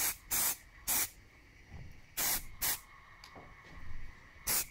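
An aerosol can sprays a coat of primer in six short, loud hissing bursts of roughly half a second each, separated by quiet gaps.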